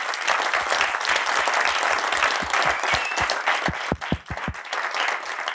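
A warm round of applause from the audience at an energy-innovation day event: dense, steady clapping throughout, with a few louder, sharper claps standing out near the end.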